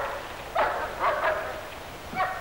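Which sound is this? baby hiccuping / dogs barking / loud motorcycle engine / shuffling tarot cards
dogs barking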